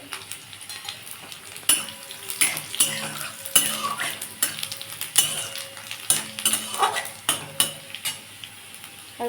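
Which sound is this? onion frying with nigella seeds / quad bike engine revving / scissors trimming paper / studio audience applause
onion frying with nigella seeds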